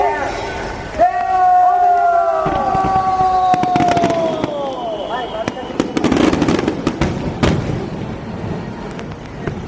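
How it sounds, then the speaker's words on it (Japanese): Fireworks launched at the Pokka GT Summer Special in 2011: whistling shells rise with falling tones, then sharp bursts and crackles overhead, mixed with crowd voices and cheering. "花火の打ち上げ始まりました"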